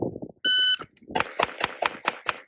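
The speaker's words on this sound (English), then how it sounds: "Listen for that timer to go off." A timer gives a single steady electronic beep, followed by a series of sharp, evenly spaced clacks and taps nearby.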